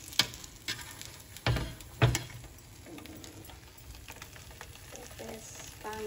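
Pepes of Nile tilapia wrapped in leaves roasting over a small flame in a pan gives a soft continuous sizzle, broken by a few sharp crackles and pops near the start, with no talking.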